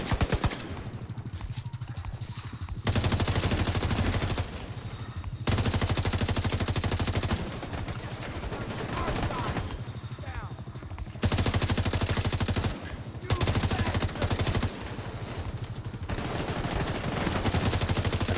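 Gunfire in the video game Tom Clancy's The Division 2: long sustained bursts of rapid automatic fire, loud and close, broken by short pauses, with faint talking in places.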